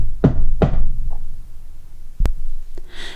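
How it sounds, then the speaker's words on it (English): Two sharp knocks sound on a door close up, followed by a softer thud and a single crisp tap, each separated by quiet pauses. "there was another knock at the door"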